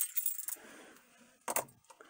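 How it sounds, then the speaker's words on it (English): Car keys for a 2008 Honda Ridgeline jangle in two short metallic bursts separated by a pause, close and fairly quiet. "So I'm going to get the keys,"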